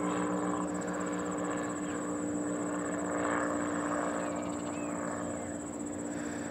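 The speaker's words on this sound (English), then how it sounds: "Got a plane flying around." A propeller airplane flies near an airport, a steady droning engine hum with a high whine running continuously at moderate distance, with no talk.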